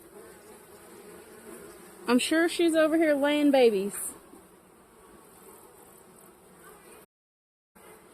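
Honeybees hum around an open beehive in a steady, close background drone, while a person talks over the buzzing for a few seconds.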